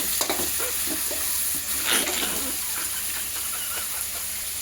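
Chicken pieces fry in a pan with a steady broadband sizzle, punctuated by scattered stirring scrapes and a brief louder burst near the middle; no voices.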